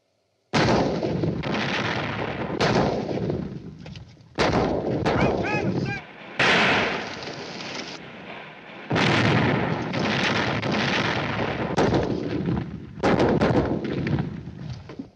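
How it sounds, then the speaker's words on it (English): Heavy siege guns boom in a 1950s film battle, a run of loud, close blasts, each with a long rumbling tail, coming in quick succession with brief gaps, no voices over them. "Siege guns. Bigger than anything we've got."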